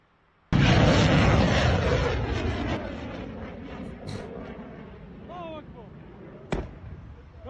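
An air defense interception of an Iranian missile in Kuwait, a sudden loud blast out of near silence that rumbles and fades over several seconds, then a sharp crack later, with someone shouting excitedly over it.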